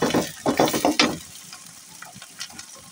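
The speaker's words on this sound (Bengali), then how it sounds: "এখন চানা ভাজি করব।" Chickpeas (chana) frying with onion, green chili and ginger paste in a pan, with a burst of stirring scrapes and sizzling crackle up front, then a softer steady sizzle as the stirring stops.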